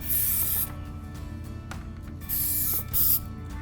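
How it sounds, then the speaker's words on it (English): Short hissing bursts of an aerosol silicone lubricant sprayed on a sliding window or door track, three main blasts separated by pauses, with faint mechanical clicks in between. "use a silicone lubricant to spray both the top and bottom."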